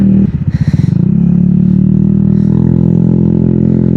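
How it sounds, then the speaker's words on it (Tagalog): A Honda ADV motor scooter on a ride in Pangasinan gives off a loud, steady engine drone close to the rider, after a brief burst of buffeting wind noise at the start, with no talking. "kami lang yung nakamotor, kaming dalawa, naka ADV"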